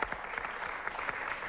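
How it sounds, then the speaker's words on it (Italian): Applause for maestro Carlo Alberto Rossi, a steady wash of many hands clapping at moderate distance, dense and even throughout the short burst, with no voices over it. "E lo salutiamo con un grande applauso"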